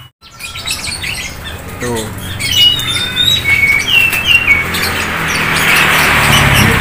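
Songbirds at a bird market chirp and tweet in quick bright calls after a brief voice sound, close and lively, over a rising background hiss of crowd and cage noise.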